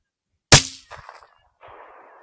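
A single loud, close gunshot fired at a red fox at night, a sharp crack followed by a brief rattling echo and fading rustle.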